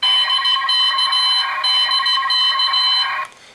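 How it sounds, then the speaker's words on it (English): DX MMZ-01 Moe Moe Z-Kyun henshin toy blaring its bright electronic connecting music through a hidden speaker port, loud and close, a steady shrill synthetic tune lasting about three seconds before cutting off abruptly. "just press it gently and you'll hear the connecting music, which is really loud because the sound port is actually over here"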